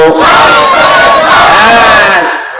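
A large crowd at a Bengali Islamic sermon gathering roars back the Nara-e-Takbir call in unison, a loud sustained chorus of many voices shouting together for about two seconds before fading.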